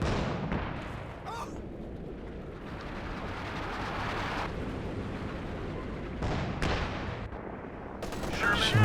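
Double Werfer rocket artillery strike in Company of Heroes 2 on the Nordwind map during a 4v4 match, a dense rolling barrage of blasts and crackling impacts sustained over several seconds, loud and busy with battle noise throughout.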